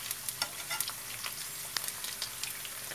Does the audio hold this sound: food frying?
yes